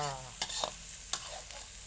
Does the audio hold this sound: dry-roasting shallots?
yes